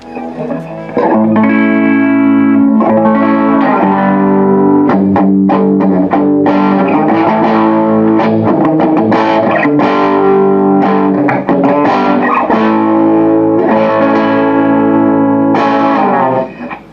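Loud, distorted electric guitar played through an Orange amplifier into a 1x12 cabinet, delivering heavy riffs with sustained chords and a steady driving rhythm that runs continuously, close and alone.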